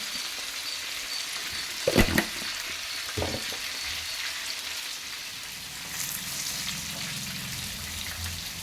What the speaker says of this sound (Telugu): మనకు వంకాయలు అయితే ఫ్రై అయిపోయినాయి